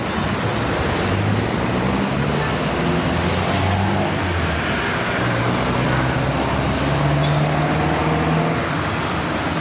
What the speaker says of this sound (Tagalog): Ang ganda ng da daloy ng trapiko.